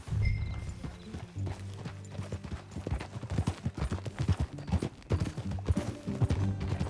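Horse hooves clip-clopping in Red Dead Redemption 2, a steady rhythmic trot of close, moderately loud thuds running throughout, with a low musical or ambient bed underneath.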